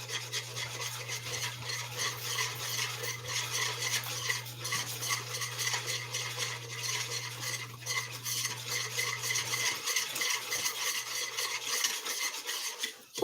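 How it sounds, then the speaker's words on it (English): Milk whisked into simmering cocoa broth in a pan, giving a steady, close scraping and swishing of the whisk with faint sizzle throughout, plus a constant low hum that stops near the end. "Whisk in the milk and simmer."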